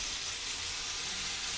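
Bottle gourd fries with cumin, salt and turmeric in a steady, soft sizzle, then a sudden louder burst right at the end as water hits the hot pan.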